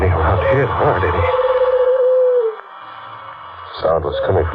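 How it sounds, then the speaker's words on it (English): In an old radio mystery drama, a hoot owl gives a single drawn-out hoot after a voice, then speech resumes. "A hoot owl."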